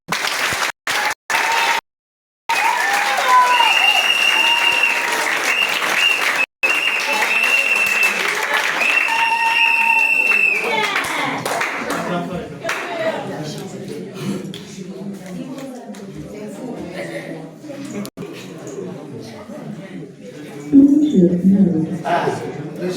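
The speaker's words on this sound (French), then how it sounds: "Applaudissez-les." Wedding guests applaud the couple at a civil marriage ceremony in a town hall, a steady round of clapping with cheers and voices over it that thins into murmuring talk and room noise.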